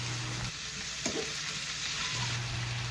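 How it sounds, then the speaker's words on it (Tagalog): Eel pieces sauté in a hot pan with turmeric and chili, a steady soft sizzle and hiss with a brief stirring clatter, fairly quiet and continuous. "At salang na nga natin ang ating palos"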